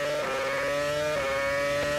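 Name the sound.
Renault Formula 1 car engine running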